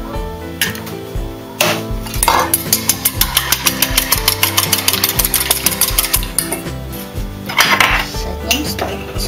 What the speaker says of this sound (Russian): Теперь взбиваем одно яйцо.